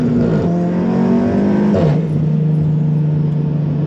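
A 510 BHP Audi S3 8V accelerates hard in first gear, its engine roaring loud and close with a steadily climbing pitch, then shifting to a lower sustained drone.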